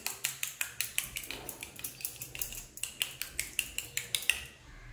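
Beaten egg and salt are whisked in a bowl with a utensil, making a quick, regular run of light metallic clicks against the bowl's side, close by and steady, with no talk.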